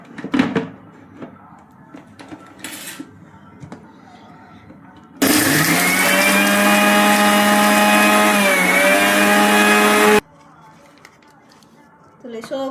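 A kitchen mixer grinder whirs loudly for about five seconds while grinding ingredients, a sharp steady motor whine that dips slightly in pitch, framed by quieter room sounds and clatter before and after.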